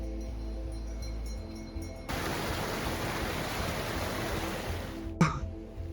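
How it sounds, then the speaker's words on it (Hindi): Steady broadband rushing of a waterfall in the Valley of Flowers, a continuous roar that swells from about two seconds in and holds constant, with a brief knock near the end. "और मेरे पीछे वाटरफॉल दिखाता हूँ।"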